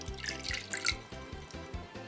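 Warm water splashes and trickles into a small glass, a light liquid pour with brief dripping bursts, close by.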